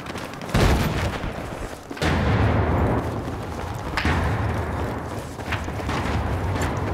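Machine gun fire in the video game Battlefield 4: several loud booming bursts of gunfire spaced a second or two apart over dense battlefield noise.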